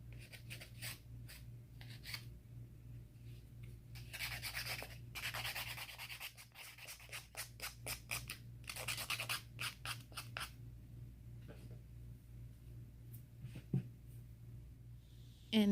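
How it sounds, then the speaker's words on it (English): Acrylic dip nails being filed with a nail file: close, quiet, rhythmic rasping strokes in bursts, some quick and rapid, others slower, separated by brief pauses over a low background hum. "If you love the nail filing, this section is just for you."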